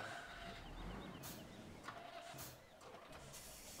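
A red truck's engine runs in the video game Farming Simulator 17, a low steady rumble with a few sharp clicks and knocks over a faint, quiet background.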